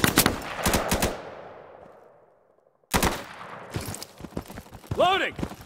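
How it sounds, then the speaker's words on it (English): Light machine gun fire in the Insurgency video game: two loud bursts of rapid shots at the start ring out into a decaying tail, then a pause and another run of sharp shots with distant crackle. "LMG fire coming from the top of D."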